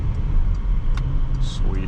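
A 2022 Porsche Cayenne GTS Coupe engine heard from inside during a drive, a low steady rumble with road noise under a voice.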